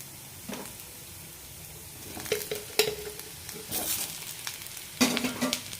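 Kozhukatta snacks made from rice and wheat flour are stirred in a hot pan, and steady sizzling frying runs under several scraping strokes and bursts of stirring.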